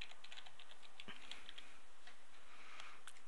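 Rapid, light keystrokes on a computer keyboard as a password is entered to secure a PDF document, a steady run of close clicks with no talking.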